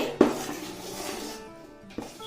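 Utensils clink against a large cooking pot of tamarind pulp on low flame, with one sharper scrape near the start and softer stirring knocks continuing at moderate volume.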